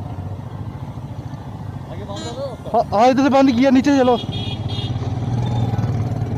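A group of four motorbikes on a Republic Day ride near Jammu idles and revs nearby, a continuous engine rumble under loud conversation that swells toward the end.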